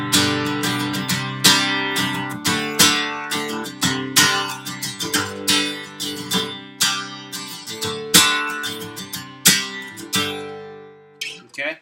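Steady, forceful guitar strumming with sharp percussive strokes in a driving rhythm, loud and close, played alone with the chords ringing between hits.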